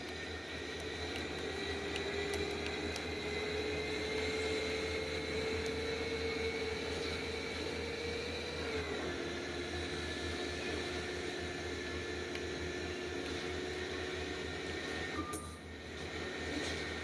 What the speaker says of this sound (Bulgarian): Искам да чуете само двигателя.